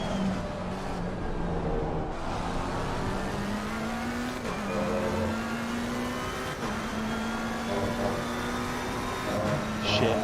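Race car engines roar steadily in Assetto Corsa Competizione at Silverstone, a Ferrari closing in fast from behind, with rising and falling engine pitch throughout and a voice talking over it.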